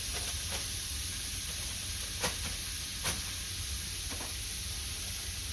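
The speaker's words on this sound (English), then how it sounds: "We're just going to pour the meat in. You hear it sizzling." Ground meat sizzles steadily in hot melted bacon drippings for a Carne Guisada, a continuous close frying hiss with a couple of brief sharper pops from stirring.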